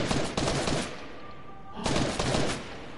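Gunfire in the video game Fortnite, two dense bursts of rapid shots with a quieter gap between them, loud and close-sounding with no talk over it.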